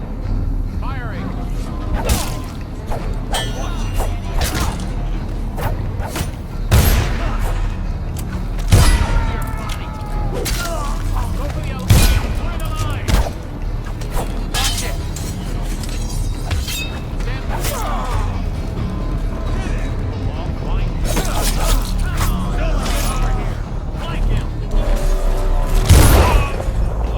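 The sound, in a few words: gunfire in the video game Dishonored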